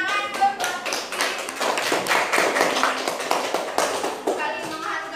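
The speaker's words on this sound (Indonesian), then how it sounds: "Tepuk tangan dong buat Rifki." Students in a classroom clap together for a classmate, a brisk, uneven burst of hand claps with bright individual slaps and some shuffling, close by and continuing for several seconds.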